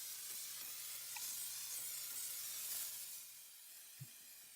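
A steady, loud hiss of a can of 3M corner bead spray adhesive runs continuously for several seconds, then eases slightly toward the end.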